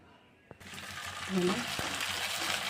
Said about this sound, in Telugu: నేను డీప్ ఫ్రై చేసి చూపిస్తాను, చూడండి.